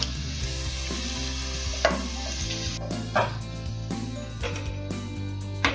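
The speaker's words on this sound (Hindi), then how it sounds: "ये तड़का मैंने सूजी के ऊपर डाल दिया है" Hot oil tempering poured over semolina for upma crackles and sizzles continuously, with a few sharp clinks and scraping stirs of a utensil against a pan.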